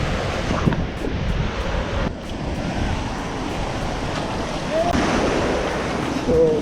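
Ocean surf washes continuously onto a secluded private beach in Hawaii, with steady wind buffeting the microphone and faint distant voices under the roar.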